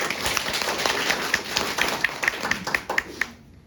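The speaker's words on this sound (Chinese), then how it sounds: "所以要给我们 Patty 的一个掌声。" An audience claps for Patty, the quick, distinct hand claps loud and close and fading out near the end, with faint murmuring beneath.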